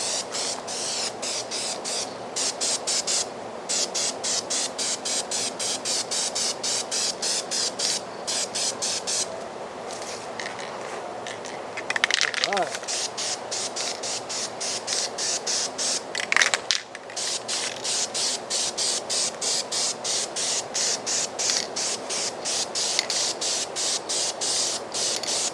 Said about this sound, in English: let's start applying our first coat of gloss coat